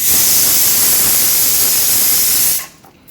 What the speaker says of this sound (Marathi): तुम्ही ऐकलंच असेल एका बाजूला आपल्या कुकरच्या शिट्या होतात